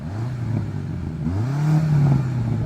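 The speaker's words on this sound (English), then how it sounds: "So I'm going to rev up the BMW." BMW M5 CS engine revving hard before a drag race against a Lamborghini SVJ, a loud rising blip climbing toward a soft rev limiter and holding there, close and alone.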